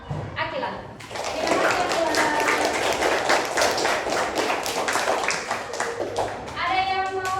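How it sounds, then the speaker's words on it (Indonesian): Children in a classroom burst into applause, a dense, lively clapping that runs for several seconds, with a teacher speaking briefly before and after. "tepuk tangan buat Akila."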